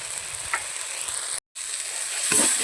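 Spice paste sautéed in a pan for a meat curry, a bright continuous sizzle with a couple of soft stirring scrapes and a short gap in the middle.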